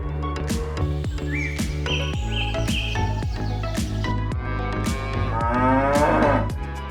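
Cattle moo amid steady rhythmic clanking and machinery noise, with a few chirps mixed in; the lowing sounds fairly close and loud.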